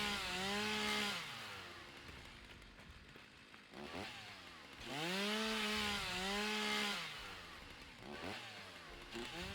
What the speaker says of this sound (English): We'll have to take our chainsaw to this.